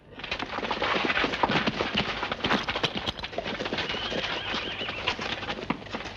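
Hooves clatter in a busy, continuous rush as several horses move off at speed, with scattered bird calls and flapping mixed into the loud outdoor din.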